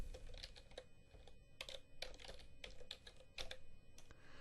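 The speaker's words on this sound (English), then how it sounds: "Type a term in the search window" Steady typing on a computer keyboard while entering a search term into a document's search window; close, clicky key bursts with short pauses, no voices.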